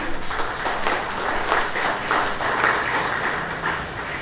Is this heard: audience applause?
yes